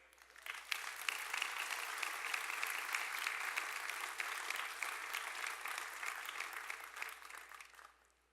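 Long applause at a Webster University commencement ceremony, many hands clapping in a sustained, quiet but dense wave that swells after the start, holds for several seconds and stops abruptly near the end over a low steady hum.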